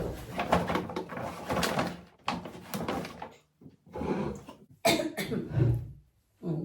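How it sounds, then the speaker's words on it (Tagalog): A woman coughs repeatedly at a cluttered table after unboxing gifts, several loud, close coughs in separate bursts with short silent gaps between them. "Medyo inuubo ako"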